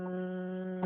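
A person hums a steady, resonant, closed-lip tone that imitates the buzz of a bee during Brahmari pranayama breathing, close and sustained with no pause.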